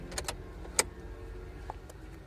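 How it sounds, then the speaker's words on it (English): Toyota Sienna key being turned in the ignition, a few short clicks and a sharp mechanical tick standing out over a low steady background hum, fairly close and quiet. "Turn the ignition, switch the ignition off within 20 seconds."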